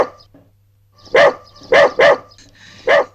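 A dog barks in short bursts, four loud, close barks spaced over a few seconds, with a brief faint sound before them and quiet between.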